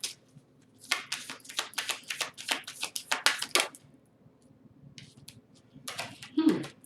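Merculite tarot cards riffled and shuffled in quick bursts of crisp papery flutters, a dense run of snaps followed by a pause and a shorter burst, close and fairly quiet.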